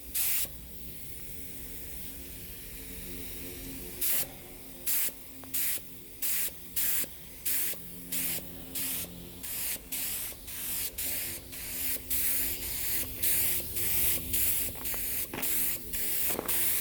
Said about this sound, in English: I'm pretty good with spray painting, but I've never used an airbrush.